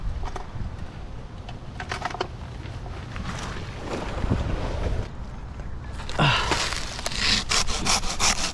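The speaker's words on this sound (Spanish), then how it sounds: "Y aunque estén cortando con su serrucho de mano, usen su acollador." A hand saw cutting through wood while a palm tree is being climbed, rhythmic rasping strokes close and fairly loud, over wind noise buffeting the microphone.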